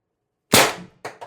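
Umarex TR50 air rifle tethered to a regulated 48 cubic inch air tank, one sharp loud shot cracking after silence, followed by two quick fainter echoing knocks.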